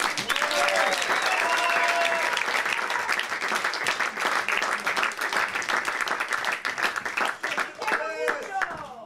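Audience applause and cheering welcome a slam poet onto the stage at a poetry slam, a loud, dense wash of clapping that carries on throughout, with scattered shouts and whoops rising above it.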